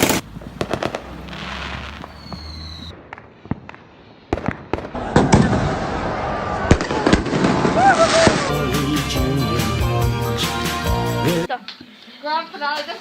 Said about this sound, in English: After all, you can expect fireworks for pretty much any occasion in LA.